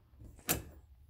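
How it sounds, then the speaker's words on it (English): A single quick knock lands sharply in an otherwise quiet room, one brief thud near the middle with faint low background hum around it. "I just heard a knock."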